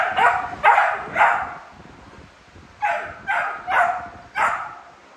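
A dog barks in two bursts, three sharp barks, a pause, then four more, fairly close and clear against a quiet background.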